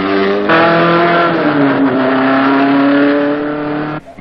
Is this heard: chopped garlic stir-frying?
no